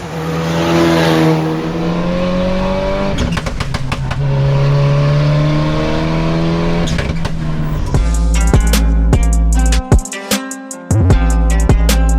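An SL GT Mitsubishi Evo 9 race car engine revs loudly and up close, its pitch rising and falling through several throttle blips before settling into a heavy, rumbling idle.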